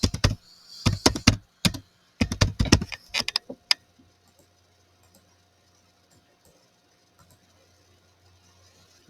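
Rapid bursts of typing on a computer keyboard, close and fairly loud, coming in quick clusters for a few seconds before falling to near silence with only faint ticks.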